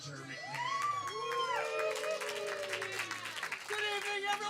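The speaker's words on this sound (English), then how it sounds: "yourselves a big round of applause for coming out tonight" Audience at a comedy show applauding and cheering with whoops, a steady crowd wash under a loud amplified voice talking over it throughout.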